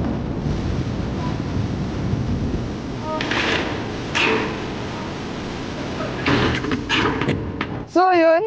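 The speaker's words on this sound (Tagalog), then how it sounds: "Grabe, sobrang hangin ano?" Strong wind roars steadily across a metal rooftop, a loud unbroken rush with gusty swells, and a brief voice comes in near the end.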